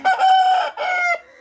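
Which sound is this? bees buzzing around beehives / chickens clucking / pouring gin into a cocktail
chickens clucking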